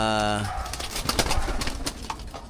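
North Derby flyer racing pigeons in an old loft at feeding time, cooing and shuffling in a busy flock close by, with a brief human voice at the very start.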